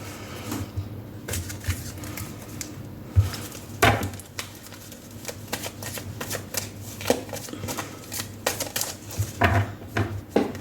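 A deck of tarot cards is shuffled up close, giving crisp riffling rustles and soft slaps that come in irregular bursts, with no voices.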